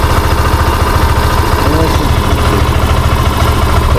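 A motorcycle fitted with a GPS-free security lock, its engine running at a steady, loud, close idle with an even low throb the whole way through.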